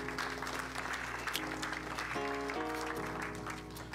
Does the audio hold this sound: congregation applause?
yes